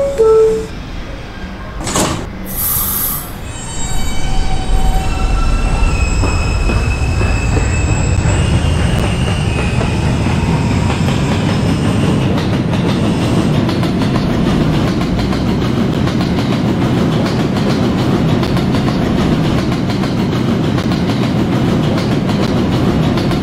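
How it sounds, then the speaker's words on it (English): An R160B Alstom subway train on the R line in a Roblox game, a brief tone and door chime giving way to a steady rising rumble of the train running, with wheel squeal and rail noise, loud and continuous. "This is a potato brick bound R train."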